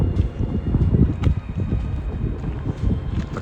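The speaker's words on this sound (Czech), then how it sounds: "je tady velký vítr" Strong wind buffets the microphone beside a mountain lake, a steady loud low rumble with gusty surges throughout and no voices.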